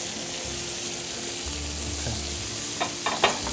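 Tomato sauce hits a hot pan in a restaurant kitchen while making pasta puttanesca, giving a steady close sizzle and frying hiss with a few small clinks near the end, no talking.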